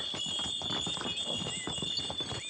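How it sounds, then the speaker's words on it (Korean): A group of donkeys with jingling bells walks through a Greek island village, soft hoof clops and a thin, steady ringing of bells heard fairly faintly throughout. "당나귀 방울 소리가 요란하다."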